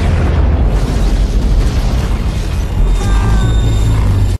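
A thrown bomb exploding against an energy ball, a sustained loud roaring blast with rumbling low end, followed near the end by rising whistling tones over the continuing rumble.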